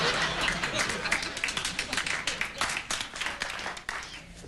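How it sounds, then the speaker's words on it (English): Studio audience on a late-night talk show gives a smattering of applause, scattered claps that come in and go continuously. "A smattering of applause."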